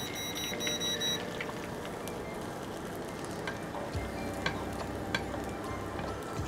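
Food laid into foaming butter and olive oil in a pan, giving a steady close crackling sizzle with a brief electronic beep at the start and a low hum joining partway through.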